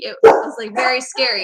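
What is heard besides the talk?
dogs barking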